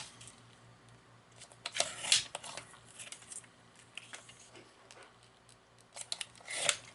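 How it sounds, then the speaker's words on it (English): Paper pieces from a recipe box kit being cut out by hand, with several crisp scissor snips and rustling of paper at close range, sparse and irregular, no talking. "I'm just going to cut these out."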